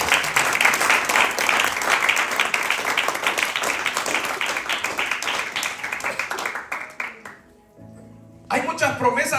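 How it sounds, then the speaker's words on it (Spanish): Sustained clapping from a large church congregation fills most of the clip, thinning out near the end before a brief swell of voices. "Aplauso a nuestro Dios."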